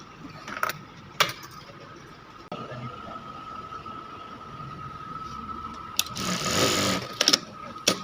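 A single needle sewing machine being test-run after a thread cutter adjustment: sparse clicks and a faint whine, then a short loud mechanical whirr and a few sharp metallic ticks.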